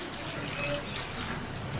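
About 100 ml of water pours steadily into a pot of drumstick curry, a continuous splashing rush heard up close.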